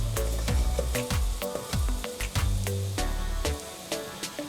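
A spoon scrapes and taps repeatedly against a pan as pounded cloves and spices are stirred together for tomato rice, giving sharp clinks and short scrapes over a soft background sizzle, close and fairly busy.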